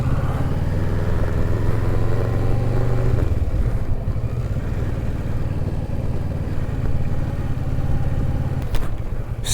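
A motorcycle engine runs with a loud, close rumbling idle that drops in pitch after a few seconds and carries on with a clattering mechanical texture.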